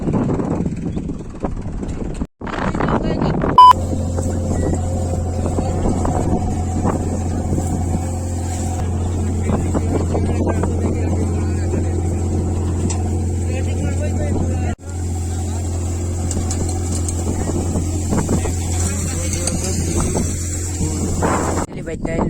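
A tractor engine runs steadily in a sesame field, a constant low, loud drone with wind buffeting the microphone, while people talk over it most of the time.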